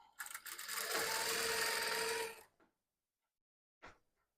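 A sewing machine stitches a blouse in one steady, fast mechanical run of about two seconds that then stops, followed after a pause by a single brief clack, close and clear.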